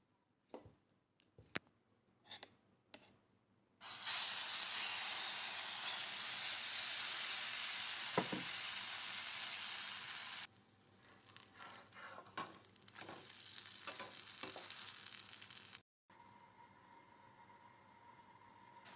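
Pitha batter poured into a hot pan gives a loud, steady sizzle lasting about seven seconds, then a quieter crackling hiss, with scattered clicks and taps of utensils around it.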